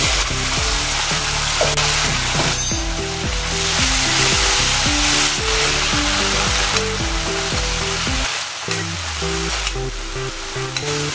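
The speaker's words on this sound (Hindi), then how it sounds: "अभी इसमें जो पेस्ट किए थे टमाटर वो डाल देंगे" Tomato paste hits hot oil that already holds fried ginger, garlic and chili paste for wedding-style dum aloo, giving a steady, close sizzle that runs the whole time with no talking.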